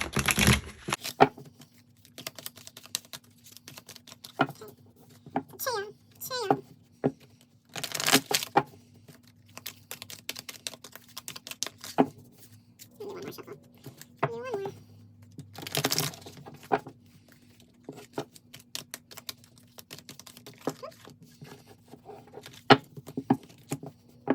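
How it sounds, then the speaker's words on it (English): Tarot cards are shuffled by hand in a quiet room, with bursts of riffling and sliding card noise separated by short pauses, close and moderately loud. "Make sure get these nice and shuffled."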